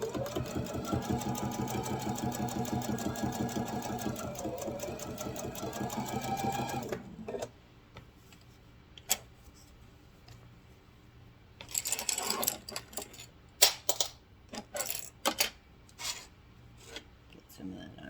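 A sewing machine runs steadily for about seven seconds while stitching down the side of a fabric grocery bag, then stops, leaving quiet handling noises and a few sharp clicks and rustles near the end.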